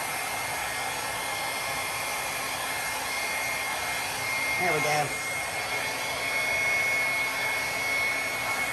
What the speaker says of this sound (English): Let's see if I can get it with my hair dryer.